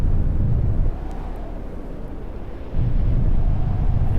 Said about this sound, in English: You might be able to hear the storm now.